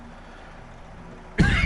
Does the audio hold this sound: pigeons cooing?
no